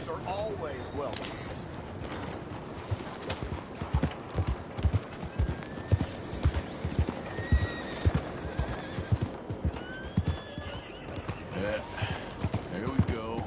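Horse hooves clip-clop in a steady trotting rhythm, close by, with occasional high whinnies rising over the footfalls, from the video game Red Dead Redemption 2.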